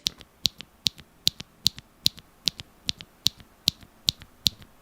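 Crisp, evenly spaced, poppy clicks of a Lucky65 V2 mechanical keyboard being typed, about three per second, close and clear with no talking.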